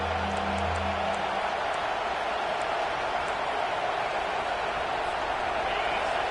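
A home crowd at a college football game roars steadily as the defense tries to get off the field on third down, a dense, loud wash of cheering that holds without a break.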